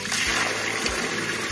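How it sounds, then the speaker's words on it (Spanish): Water rushes and swirls down a drain in a basin at the Mitad del Mundo equator site near Quito, Ecuador, a steady close gurgling flow with a few soft low thumps and no voices. "Y vamos a ver cómo gira el agua en Australia."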